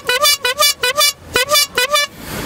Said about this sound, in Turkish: kornalıyorum